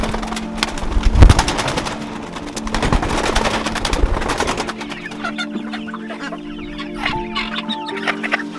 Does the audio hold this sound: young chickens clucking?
yes